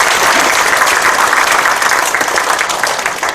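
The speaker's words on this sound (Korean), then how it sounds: "홍찬 박수 부탁드리겠습니다." A crowd at a farmers' committee launch rally gives dense, loud, continuous applause that holds steady throughout.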